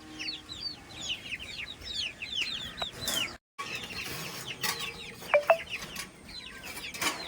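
Pet chicks and chickens cluck and peep in quick, overlapping bursts, moderately close, with a brief gap of silence midway and a few sharper calls near the end; no one speaks.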